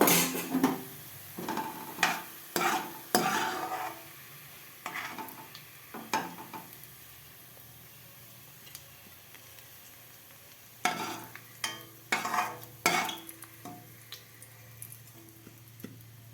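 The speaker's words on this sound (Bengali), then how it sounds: "পেঁয়াজগুলো আমার ভাজা হয়ে গেছে। এরপর আমি তুলে নেব।" Onions frying in a pan with bursts of stirring and scraping, some pot clatter, then quieter stretches of low sizzle in between.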